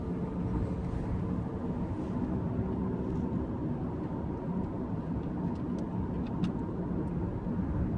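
A Skoda Octavia 1.0 TSI engine hums steadily from inside the cabin with four people aboard, a constant low drone with road rumble and no voices.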